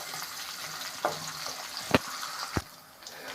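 Garlic frying in oil in a pan for a quick home curry, a soft continuous sizzle under a few sharp clinks and taps of a spoon against the pan.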